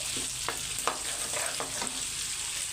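Garlic sizzles in a hot pan with a constant hiss while a spoon scrapes and stirs it a few times. The frying noise is close and dominant, and no one speaks.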